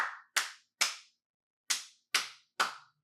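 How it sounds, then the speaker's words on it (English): Six sharp hand claps picked up by a dynamic microphone, crisp and close, spaced irregularly with short decaying tails and silence between them. "Clap test for the dynamic microphone"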